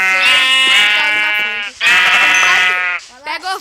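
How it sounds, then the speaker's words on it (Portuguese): Sheep in the Minecraft video game bleat loudly and close by: two long, wavering bleats followed by a few short, clipped ones. "Pega a ovelha pra fazer lã e comida."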